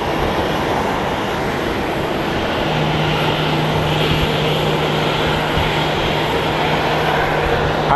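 Three-engine airliner at Sky Harbor International Airport, a steady loud jet engine roar with broadband rush and a low hum that continues through the clip, with no voices.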